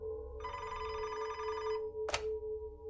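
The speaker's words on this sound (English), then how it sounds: "Gerzib's phone rang at his desk" A desk telephone rings with a bright electronic trill lasting over a second, followed by a short sharp burst, heard close and clear with no talk.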